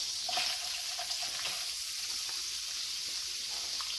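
Minced garlic fries gently in oil over low heat, a soft, even sizzle with faint crackles and a few quiet utensil clinks, with no talk.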